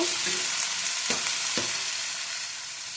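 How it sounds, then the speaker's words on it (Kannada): Tomatoes sautéing in a pan for avarekalu pulao give a steady close sizzle with a couple of brief stirring scrapes, and no voices. "ಟೊಮೊಟೊ ಹಾಕ್ಕೊತಾ ಇದ್ದೀನಿ. ಇದು ಒಂದು ಸ್ವಲ್ಪ ಸಾಫ್ಟ್ ಆಗೋವರೆಗೂ ಹುರ್ಕೊಬೇಕು"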